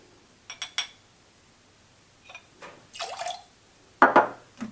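Freshly squeezed lime juice poured for a classic margarita: short liquid splashes and drips in several separate bursts, close and fairly quiet, with a louder pour near the end.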